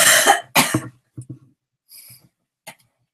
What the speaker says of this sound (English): I do another cough.